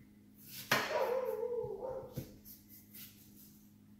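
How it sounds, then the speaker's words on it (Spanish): Dog barks outdoors during home salad preparation, one sharp bark followed by a drawn-out whining yelp, then a second short bark, at moderate distance over a quiet background. "Ay, disculpen a Brownie que está ladrando, no sé qué ve allá"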